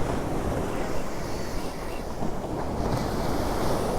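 Ocean waves and surf churning against a rocky reef shoreline, a steady, loud, dense roar with wind buffeting the microphone throughout, no voices.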